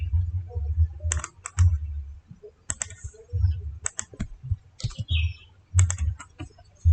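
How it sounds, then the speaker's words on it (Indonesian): Computer keyboard typed on in short clustered bursts of crisp, close clicks separated by brief pauses, as data are copied and pasted between groups in a spreadsheet. "saya pakai Ctrl C ya."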